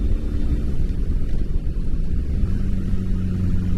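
A 1984 Honda Magna VF700C motorcycle engine rumbles steadily while riding, a loud, continuous low drone mixed with wind buffeting on the microphone.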